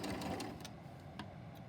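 A sewing machine stitches through quilt block fabric, a soft, quiet mechanical whir with faint ticking needle beats, running briefly and evenly close by.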